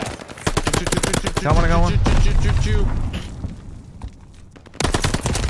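Rapid MP40 submachine gun bursts in Call of Duty: Vanguard, sharp repeated shots at the start and again at the end, with someone talking briefly in the middle over the game noise.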